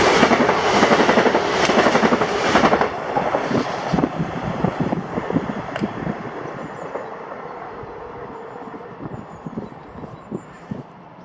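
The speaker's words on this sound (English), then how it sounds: "the 1021 ScotRail service to Edinburgh from Glasgow Central with 385040" A ScotRail class 385 electric train, unit 385040, passes at Holytown, loud and close with rapid rhythmic wheel clatter and a rushing whoosh that gradually eases as it moves away, wind buffeting the mic.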